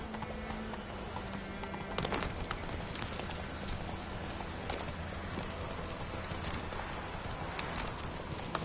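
Horse hooves clip-clop steadily in The Witcher 3, the game horse galloping across open ground with a faint patter like rain behind and a brief whinny; no one talks.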